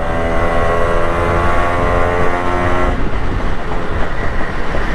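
German horn fitted to an RX100 motorcycle, blaring a loud, sustained multi-tone honk for about three seconds before cutting off into rough engine and road noise.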